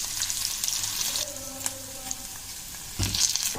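Curry leaves and dried red chilies crackling in hot tempering oil, a soft continuous close sizzle with a few brief pops and clinks, no voices.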